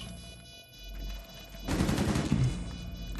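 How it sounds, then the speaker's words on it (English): Gunfire in Rainbow Six Siege: a dense, sustained burst of rapid automatic shots starts partway in and keeps going, loud and close, after a quieter stretch of background game noise. "Is that you shooting?"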